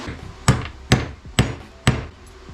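Four sharp metallic hammer blows drive a bushing into a 2020 Polaris RZR Pro XP A-arm at a steady, unhurried pace, close and loud, with brief ringing decay after each strike.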